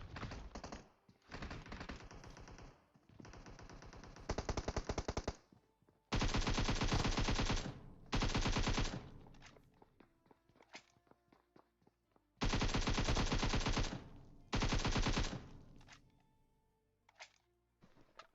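Gunfire rattles in a shooting video game, with bursts of rapid automatic fire of one to two seconds each separated by quieter gaps holding lighter clicks and movement sounds, loud and close, with no talking.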